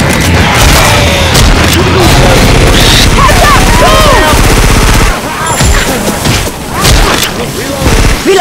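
Dense video game gunfire, rapid bursts and automatic volleys cracking loudly and continuously near and far, mixed with booms, while voices shout over the shooting.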